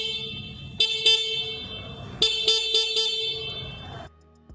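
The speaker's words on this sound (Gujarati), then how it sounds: "આપણે હોરનની હવે ચાલુ કરીને જોઈ લઈ" Horn of a 2025 Honda SP 125 motorcycle blares in repeated bursts: two short honks, a pause, then four quick honks close to the mic, each with a bright buzzing tone, with no voices.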